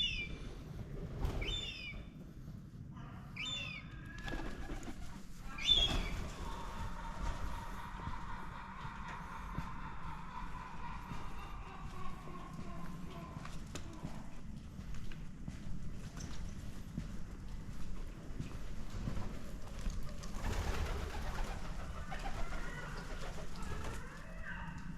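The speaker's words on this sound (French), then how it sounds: "vous entendez les mouettes qui font" Gulls call out now and then over Venice, squawks rising faintly above steady outdoor ambience with no talking.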